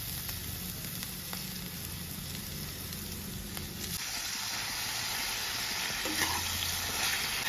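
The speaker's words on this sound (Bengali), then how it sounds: "হালকা ভাজা ভাজা করছি।" Onion and chicken frying in a pan, a steady soft sizzle and hiss running throughout with light stirring noises, fairly faint and close, with no talking.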